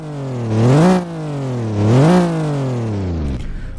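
A car engine in the Roblox game revs twice, each sweep rising to a loud peak and then falling away, before settling into a lower, fading drone.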